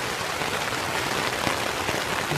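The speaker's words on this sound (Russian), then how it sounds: "Короче, дождь усиливается, мы все занесли в палатку." Heavy rain drums on a tent during a camping trip in a forest near Rostov-on-Don, a dense, even patter close overhead with no one speaking.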